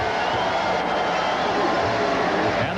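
Dense, steady roar of a large stadium crowd at the 1997 Egg Bowl college football game between Ole Miss and Mississippi State, a continuous wash of noise with faint voices mixed in.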